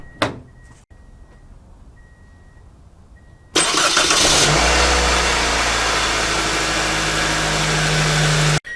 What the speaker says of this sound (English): Now let's go ahead and start the car.